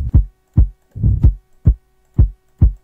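A kick drum sample is previewed in FL Studio, giving seven deep, punchy thumps at a steady, even pace. Each hit is close and alone, with silence between.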